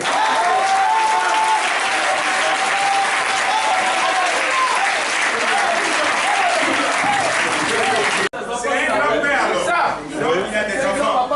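A church congregation applauds loudly and steadily in praise during a French-language service, a dense clapping roar that cuts off abruptly and gives way to a looser burst of claps with voices mixed in.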